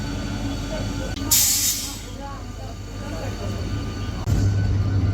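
A steady low rumble and rattle from inside a moving local train, with a hissing burst and occasional clunks, and a voice faintly present underneath.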